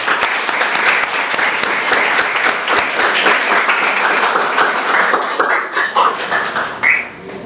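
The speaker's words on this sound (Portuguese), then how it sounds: "eu gostaria que vocês dessem uma salva de palmas para eles." Studio applause during a Portuguese-language podcast interview, dense and energetic clapping from a small group, close and loud, thinning out near the end as voices start to come in.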